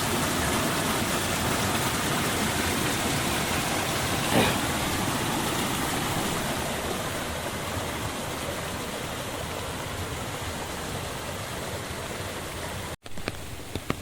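Monsoon floodwater rushes steadily toward a flooded river in Kumbhavade, Rajapur, in Konkan, a loud continuous roar of moving water holding from start to finish, with a brief knock near the end.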